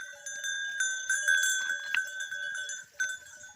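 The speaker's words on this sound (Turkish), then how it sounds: "Koyunlar ahıldan nasıl çıkıyor diye" Sheep bleat and livestock bells clink and jingle continuously as a flock leaves the barn, fairly distant, with no talking.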